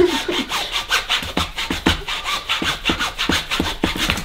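A handsaw cuts through a wastewater pipe in rapid back-and-forth rasping strokes, steady and close, with no talk.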